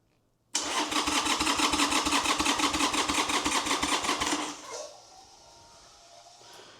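A Harley-Davidson motorcycle engine with a dead battery cranks on a jump pack, a loud, fast, rhythmic churning that runs about four seconds without catching, then cuts off and leaves quiet background.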